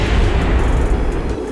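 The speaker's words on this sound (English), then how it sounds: "They are about to blow up" Spacecraft parts blowing apart in Kerbal Space Program, with an overheating engine nearby: a continuous loud, low rumbling roar of explosions sustained throughout, heavy in the bass and without distinct separate blasts.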